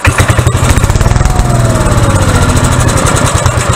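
A salvaged gasoline generator engine runs loud and close, with a fast, rough, pulsing chug that does not let up.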